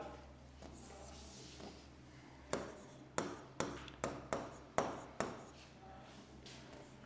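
Writing on a board during an English grammar lesson: a run of about eight sharp taps and scratchy strokes in quick succession over a steady low room hum.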